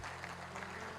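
A church congregation applauds during a sermon, giving a brief, faint, steady patter of clapping over a low hum.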